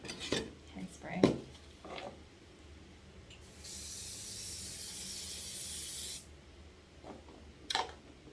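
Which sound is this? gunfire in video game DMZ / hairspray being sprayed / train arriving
hairspray being sprayed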